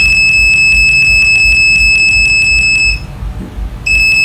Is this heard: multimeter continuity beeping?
yes